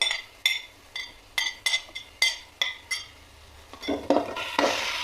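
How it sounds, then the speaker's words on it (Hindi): Sharp scraping and clanking of a spatula against a pan, repeated in an irregular rhythm, with a rising sizzle of garlic and ginger frying toward the end. "पहले लहसुन को हमने अच्छे से भूनने देना है।"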